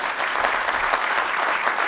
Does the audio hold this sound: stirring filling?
no